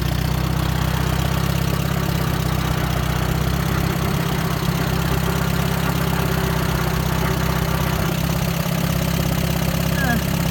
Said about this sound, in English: that's a pretty low idle. It'll idle really low.